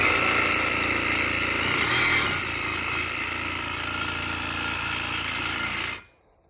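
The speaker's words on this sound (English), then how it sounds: "So we're going to take a Sawzall and cut through this." A Sawzall reciprocating saw cuts through a broken jet boat nozzle, producing a loud, steady, harsh buzzing grind that holds for about six seconds before cutting off abruptly into quiet.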